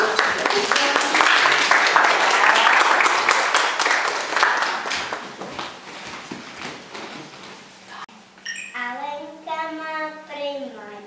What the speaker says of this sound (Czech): pojďte nám zatleskat